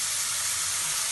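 Onions with salt sizzle steadily in hot oil in a pan, a continuous bright hiss with no break.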